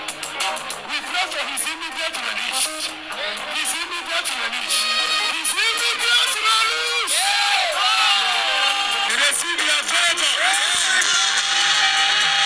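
A large crowd at an outdoor prayer gathering shouts and cheers in praise, with voices whooping and yelling together, the roar growing louder and more sustained as it goes on.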